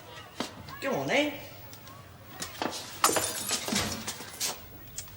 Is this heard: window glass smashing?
yes